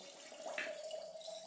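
Wine spirit, 400 ml, poured over 400 g of finely crushed propolis, giving a steady close trickling pour that swells briefly and then carries on alone.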